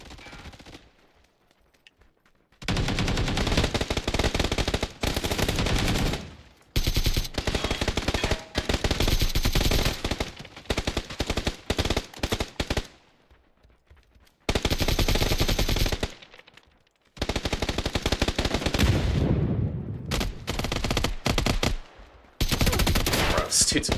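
Gunfire in the online shooter PUBG, with long loud bursts of rapid automatic fire broken by short quiet gaps across the whole stretch.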